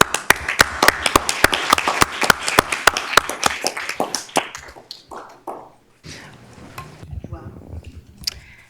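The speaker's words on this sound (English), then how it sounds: "Can we give a warm round of applause?" A school district board meeting audience gives a brisk round of applause for students that thins out after a few seconds. Scattered claps and room noise follow, with a voice starting to talk near the end.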